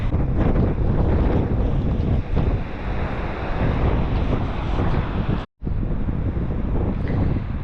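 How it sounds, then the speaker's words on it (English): Strong wind buffets the microphone on La Coronilla beach on the coast of Uruguay, a loud continuous roar with surf rumbling underneath and one brief dropout. "The beaches are a little windy"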